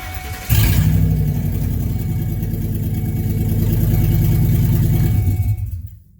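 A Ford E250 Econoline van engine with its catalytic converter stolen starts and runs with a loud, rough, harsh, raspy drone, holding steady for several seconds before cutting off.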